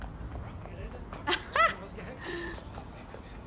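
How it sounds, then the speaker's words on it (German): A dog in the video game Watch Dogs: Legion gives a couple of short yips or barks, fairly faint, amid low background sound. "Das ist auch ein Hund."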